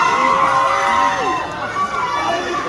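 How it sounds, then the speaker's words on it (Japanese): A large crowd cheers and applauds at a Korean red carpet event for Demon Slayer: Infinity Castle with the Japanese voice actors, a steady loud roar of voices and clapping with amplified voices carrying over it. "ものすごい歓声ですよ。"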